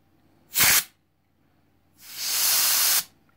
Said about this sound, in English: I'm just going to take some forced air and try to blow things out a little bit